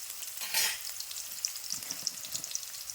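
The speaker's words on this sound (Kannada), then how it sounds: "ಉಳ್ಳಾಗಡ್ಡಿ ಹಾಕೊಂಡೇನ್ರಿ ಈ ಒಳಗಡೆ ಫ್ರೈ ಮಾಡ್ಕೋಬೇಕು" Onions frying in oil in a pan for kadai paneer: a steady, close sizzle and hiss with a brief louder burst of stirring early on, no voices.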